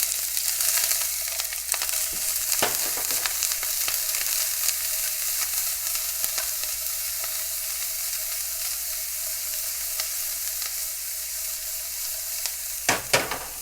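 Onions hitting olive oil in a pan and frying, a bright steady sizzle with occasional stirring scrapes and clicks, close and continuous, no talk.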